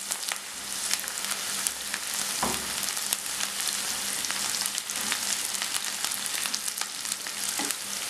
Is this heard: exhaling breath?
no